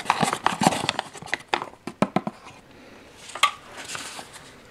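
Rehydrated fruit muesli from a Danish freeze-dried ration pack being stirred in a container, a run of close, wet scraping and clicking strokes that pause before a few softer stirs.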